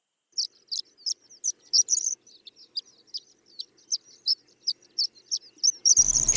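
A small bird sings a series of quick, high chirps and trills in a steady rhythm. It is fairly close and clear, with a brief burst of noise at the end.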